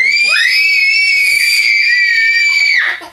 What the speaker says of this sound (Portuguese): Para de gritar, vocês duas.